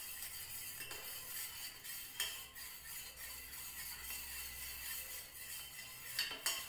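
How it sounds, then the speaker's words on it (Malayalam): A spoon stirs cornflour into a mixture in a bowl with quiet, scattered clinks and scrapes against the side under a faint background hiss. "കട്ടില്ലാതെ ഒന്ന് ഇളക്കിയെടുക്കുക."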